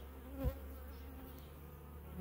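Honey bees in a queenless hive during a virgin queen installation, giving a steady close drone with one brief louder rise.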